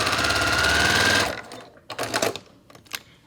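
A sewing machine stitches a quilt block in a fast, steady run close by, then stops abruptly. A few faint clicks and handling sounds follow in the quiet.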